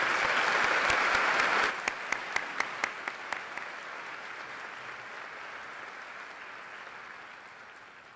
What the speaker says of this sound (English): A round of applause for everyone on stage,